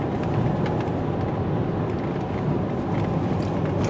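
A black 2003 Volvo XC90 T6 AWD SUV cruising down the road in 4th gear, a steady loud drone of engine and road rumble with wind noise, continuous and even throughout.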